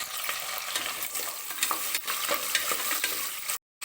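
Green chillies fry in hot oil with cinnamon, cloves, cardamom and curry leaves for rabbit curry, a loud continuous sizzle with stirring scrapes close up, cutting out briefly at the end.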